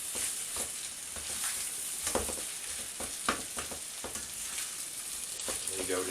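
Special fried rice with chopped fish fingers sizzling in a frying pan, a steady close hiss with occasional scraping and stirring clatter throughout.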